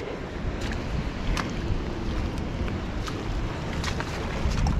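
A vehicle crossing a shallow stream on a mountain road in Ladakh produces continuous rushing water and splashing, mixed with low engine rumble and wind buffeting the microphone.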